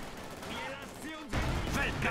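Booming mortar fire in the video game Company of Heroes 2 erupts partway through, a heavy burst of blasts after a quieter stretch with a voice talking underneath.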